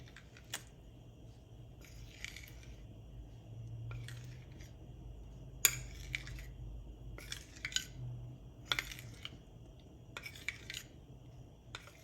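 A metal utensil scrapes and clinks in a bowl as it mixes a clumpy paste for cleaning oil, giving intermittent soft scraping strokes with sharper taps against a quiet background.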